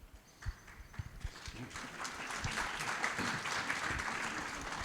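Audience applause at a chamber of commerce State of the City event, starting sparse and swelling into steady, dense clapping from a large crowd that holds through to the end.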